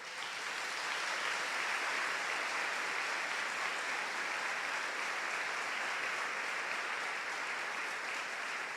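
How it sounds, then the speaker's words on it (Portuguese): A church congregation applauds, a dense, sustained wash of clapping at steady volume that lasts nearly nine seconds without a break. "Vamos dar uma salva de palmas para o nosso Deus."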